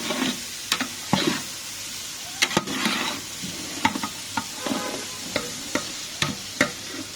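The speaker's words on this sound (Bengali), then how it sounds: "খুব ভালো করে ভাজা হওয়ার জন্য আমাদেরকে একটু সময় দিতে হবে।" Carrots, yardlong beans and cauliflower fry in a pan for khichuri, a soft continuous sizzle punctuated by repeated sharp spatula clicks and stirring scrapes.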